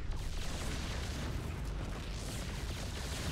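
Yamato cannon blasts from battlecruisers in StarCraft II, a dense, continuous booming rumble of heavy sci-fi explosions with strong low-end weight, loud and sustained without pause.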